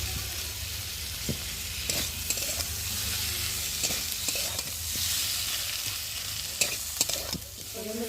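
Rui fish curry is stir-fried in a pan: a constant close sizzle of hot oil runs throughout, broken by repeated scrapes and clinks of a spatula against the pan.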